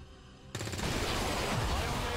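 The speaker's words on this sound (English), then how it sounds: "Oh, you gotta love these explosions." A sudden loud explosion bursts in after a quiet half-second in XCOM 2 Long War of the Chosen, then a sustained roaring, crackling blast rumble fills the rest.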